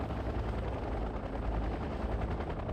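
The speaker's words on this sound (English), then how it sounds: "I just love watching like all of these helicopters arrive at this Mi-26." Several military helicopters arriving at an Mi-26 transport in the video game Wargame: Red Dragon, a dense continuous rotor chop and engine roar, steady and moderately loud, with no voices.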